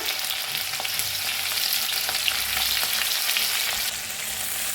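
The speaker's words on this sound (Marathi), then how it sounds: "आता लसूण आणि मिरची कुटून घेतली होती ती भाजून घेऊया।" Crushed garlic and green chilies frying in hot oil in a kadhai, a loud continuous sizzle with occasional stirring scrapes, close up and without speech.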